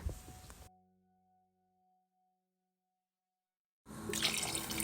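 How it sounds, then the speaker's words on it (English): Water being poured into a pot of beef and potato pilau, a short splashing burst, then a near-silent gap and a second louder rush of running water. "we are just going to add water"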